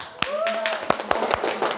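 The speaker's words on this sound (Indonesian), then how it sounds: "Kasih tepuk tangan yang meriah dulu untuk kalian." A few scattered, sharp hand claps ring out in a teacher-training class at Universitas Negeri Manado, spaced irregularly while a voice speaks and sustained tones carry on beneath.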